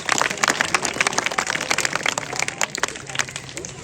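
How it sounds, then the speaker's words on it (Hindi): Audience applause for a child at a spiritual talk, a lively burst of many people clapping, irregular and busy, moderately loud, gradually thinning out near the end. "जोरदार ताली बजाएंगे इस बच्चे के लिए।"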